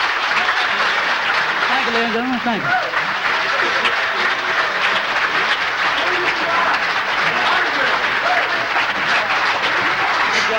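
Concert audience applauding a live doo-wop group performance in Philadelphia, sustained loud clapping throughout, with a brief voice or vocal sound rising above it early on.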